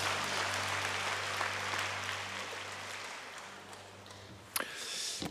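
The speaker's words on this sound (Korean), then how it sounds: "하나님께 모든 영광의 박수 올려드리겠습니다." Church congregation clapping at a Korean evangelism team retreat gathering, a broad moderate applause that slowly fades, ending with a few sharp isolated claps.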